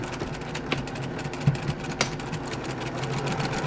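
Sewing machine stitching quilt pieces together, a steady continuous mechanical whir with a few brief louder clicks, close and alone without voices.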